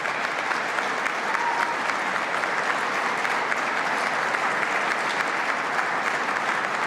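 Steady applause from an audience at a government economic development announcement naming winning villages, dense and sustained clapping filling the whole stretch without a pause.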